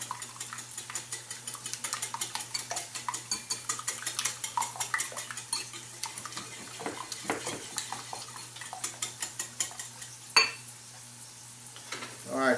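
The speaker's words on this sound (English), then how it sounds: "Get you a whisk or a fork, either one. Whisk them up." Eggs being whisked for an omelet, with a steady run of quick, rhythmic tapping strokes against the bowl lasting about ten seconds, over a low background hum, followed by a sharper clink near the end.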